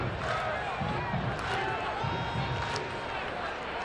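A large stadium crowd murmurs and roars steadily at Nippert Stadium during an FC Cincinnati soccer match, a dense wash of far-off voices with a commentator talking over it.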